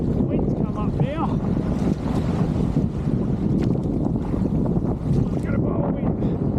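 Strong wind gusts buffet the microphone while boating at the entrance to Wingan Inlet, a constant loud rumbling roar throughout with faint shouts breaking through.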